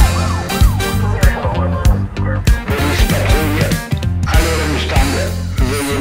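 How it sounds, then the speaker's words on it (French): A police siren wails through loud music with a strong beat and repeated percussive hits, the siren blending into the busy, bright mix. "Ses sirènes s'allumant dans un éclat de lumière bleue, Léo et Mia échangent un regard inquiet."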